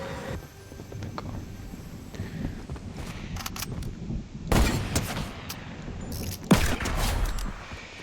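Gunfire in Fortnite during a no-build 50 vs 50 match, with two loud bursts of shots standing out above a steady background of game noise and no voices.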